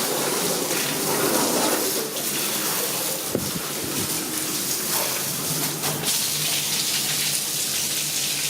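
Water from a hose rinsing a car freshly treated with Sensha Fine Crystal ceramic coating spray, a steady broad rushing spray that runs throughout with slight surges, close and fairly loud, no talking.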